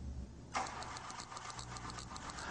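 Car engine cranking over with the starter during a spark gap ignition test, a steady rapid churning that starts about half a second in and runs on evenly and fairly loud to the end.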